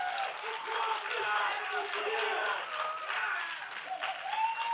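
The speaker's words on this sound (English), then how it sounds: "They're supporting you. They're cheering for you now." Fans at an NA LCS Summer 2017 League of Legends match between CLG and FlyQuest cheer and applaud in a steady, moderately loud roar, with a voice talking over the crowd.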